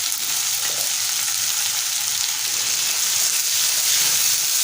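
Finely chopped tomatoes with salt sautéing in a hot pan, a loud, steady sizzle filling the whole stretch without pause, close and uninterrupted, no voices.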